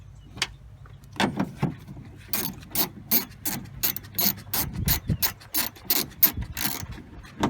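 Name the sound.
ratchet tightening bolts on Toyota Tundra car door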